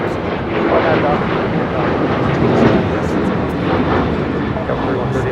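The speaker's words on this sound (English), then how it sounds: "737-800 now rolling down 25 right" A Boeing 737-800 jet takes off down runway 25 right at LAX, its engines a loud, continuous roar that stays strong throughout, with faint tower radio chatter mixed in.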